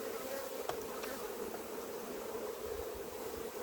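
A steady swarm of honey bees hums close by around an open hive, a continuous dense buzz with occasional individual insects darting past.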